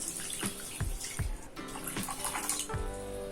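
Water is poured into a pan of sugar to make a syrup, a close, continuous splashing trickle with a few soft knocks and gurgles, heard with no talking.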